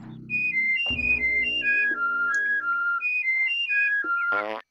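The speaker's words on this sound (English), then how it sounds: "But if I don't whistle, he'll kill me." Abe whistles a bright, tuneful melody of short repeated notes in the video game Oddworld: Abe's Oddysee, loud and close, with low rumbling game sounds underneath and a brief creaky vocal squeak at the end.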